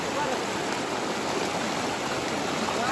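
A strong, high-pressure stream of water pours steadily for the whole stretch, a loud, dense and unbroken rushing hiss close by.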